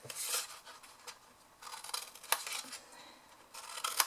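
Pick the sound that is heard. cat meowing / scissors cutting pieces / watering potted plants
scissors cutting pieces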